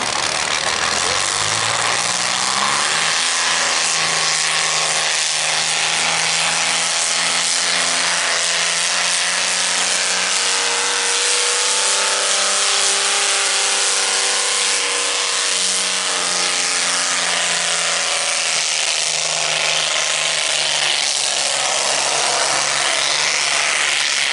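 A 4010 gas tractor roars at an outdoor tractor pull in Jordan, Minnesota, its loud engine holding a sustained, strained drone whose pitch climbs and wavers for over twenty seconds, with faint crowd and announcer sound beneath.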